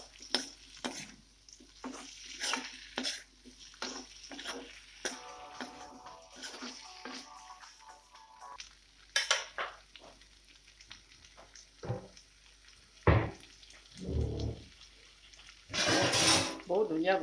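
Tomatoes fry in a pan for a shark fish curry and are stirred with a utensil, giving repeated rhythmic scraping and clinking over a soft sizzle. Near the end the clatter gets louder.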